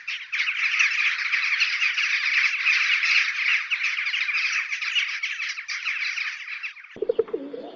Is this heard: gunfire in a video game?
no